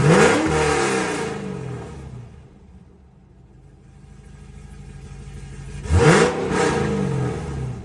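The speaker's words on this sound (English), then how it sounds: "So I can give you a couple of revs so you can see what the exhaust sounds like" A 2012 Cadillac CTS-V wagon's exhaust revs up loudly twice, nearby and alone, with a deep rumbling swell that falls back to idle between the bursts of throttle.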